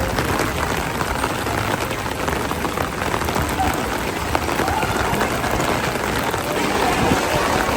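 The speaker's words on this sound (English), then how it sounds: "It's getting very windy and rainy, so definitely time to go actually." Heavy rain pours steadily onto surfaces on a windy day at a theme park, a dense, loud, unbroken hiss throughout.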